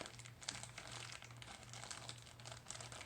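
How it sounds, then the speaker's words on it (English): A sealed plastic bag holding an ice cream mixture is pressed to push the air out, giving close, continuous crinkling and rustling with a few sharper crackles, steady and fairly quiet. "trying to get as much of the air out as you can"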